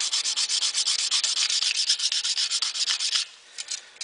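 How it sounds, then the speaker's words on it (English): Sandpaper rubbed by hand over a dented stainless steel surface, giving a steady run of quick back-and-forth scratchy strokes, loud and close, that stop near the end with a few lighter rubs. "that area has been sanded pretty much smooth"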